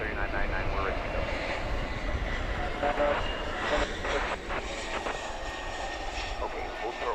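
An Airbus A321 on the runway at DFW Airport at night hums with a continuous engine roar while voices talk over it throughout.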